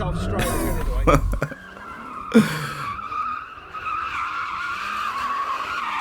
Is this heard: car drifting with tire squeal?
yes